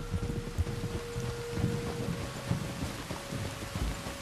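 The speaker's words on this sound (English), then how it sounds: "There's rain on the wind." Steady rain pours down with low rolling rumbles of thunder in the Red Dead Redemption 2 game world, a continuous hiss over deep, uneven bass thuds, with no talking.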